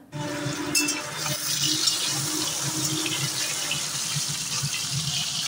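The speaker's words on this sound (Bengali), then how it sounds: "দেখো আলুর থালাটা আবার সঙ্গে সঙ্গে ধুয়ে রেখে দিলাম" Steady running tap water splashing over a plate that held potatoes as it is rinsed in a home kitchen sink, a continuous close gush with faint clinks at the start and no talking.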